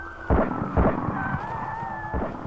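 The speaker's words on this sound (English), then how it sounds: "Gunshots." Three heavy, booming gunshot effects from a Batman crime drama scene fire in irregular succession, each a low thudding burst over a steady tonal hum and rumbling background, with no voices.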